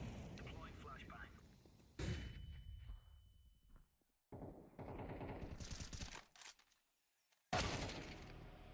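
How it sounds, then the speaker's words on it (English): Grenade thrown and exploding in a Counter-Strike match at an esports final, heard as several loud broadband blasts with gunfire-like bursts between quieter gaps, while a commentator talks over the action. "Throwing a grenade."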